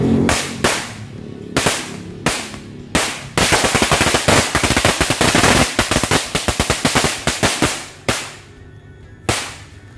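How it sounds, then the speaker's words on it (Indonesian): A few sharp bangs pop at first, then a long string of firecrackers crackles in a rapid, loud burst before tapering off into scattered final pops, during Chinese New Year celebrations. "yang pertama kita cobain 2 gepok mercon korek dulu bro"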